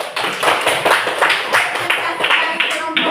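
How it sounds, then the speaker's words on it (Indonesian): A classroom group of students claps in a brief round, with quick, uneven hand claps close by for a few seconds. "Tepuk tangan."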